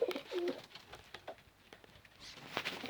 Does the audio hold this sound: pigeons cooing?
yes